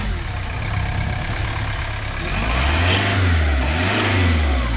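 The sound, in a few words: van engine revving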